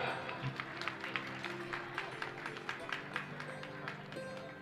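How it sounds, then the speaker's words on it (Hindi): Applause from the audience at a Jain religious festival, the Terahdweep Mahamandal Vidhan Mahamahotsav at Banediya Ji near Indore, with steady crowd clapping that goes on alone for several seconds. "एक बार जोरदार तालियां"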